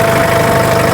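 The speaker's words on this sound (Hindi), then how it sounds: "ट्रैक्टर कितना फ्री चल रहा है" A tractor engine runs steadily while tilling deep in a live field demonstration, a loud, continuous idling-style rumble with a mid-range drone that holds evenly throughout, with no talking.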